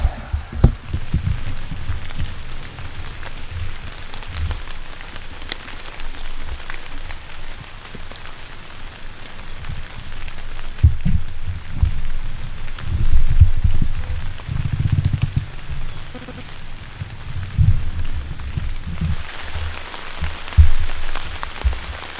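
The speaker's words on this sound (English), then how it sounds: "It's starting to rain just now." Rain falling in the Ohio woods during a bowhunt, a steady dense patter on leaves and surfaces with low thumping drops and wind, continuous and close, with no talk.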